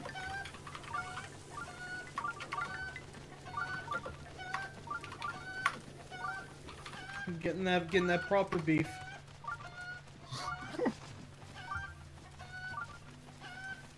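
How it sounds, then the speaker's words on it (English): A distressed chicken clucks and squawks in repeated bursts, carried along by a person, with a louder flurry in the middle, while people talk over it outdoors. "That chicken sounds really distressed"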